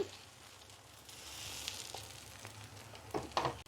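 Appam batter sizzles in an iron pan, a soft, close, steady hiss with a few faint clinks and scrapes near the end.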